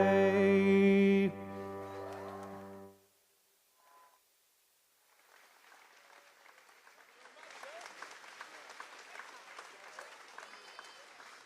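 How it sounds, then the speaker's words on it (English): A crowd at the Fancy Farm Picnic in Graves County, Kentucky applauds two musicians right after a song: the music stops, a brief hush follows, then dense clapping rises and holds steady, loud and continuous. "let's give both of our musicians here in Graves County another round of applause"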